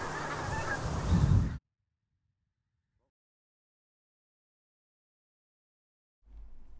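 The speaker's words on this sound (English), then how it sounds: "The dark head and high-pitched wink-wink calls are also good pinkfoot identification features." A flock of pink-footed geese honks in a burst of overlapping, high-pitched wink-wink calls, then falls silent, with a faint low rumble returning at the end.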